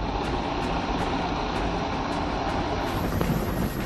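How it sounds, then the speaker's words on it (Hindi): An Indian Air Force Mi-17 helicopter flies a flood rescue mission in Kangra, Himachal Pradesh, giving a loud, steady, wind-buffeted roar that stays constant throughout, with no voices. "बाढ़ वाले इलाके में फंसे हुए लोगों को बाहर निकालने के लिए वायुसेना के हेलीकॉप्टर्स को भी मोर्चे पर लगाया गया है"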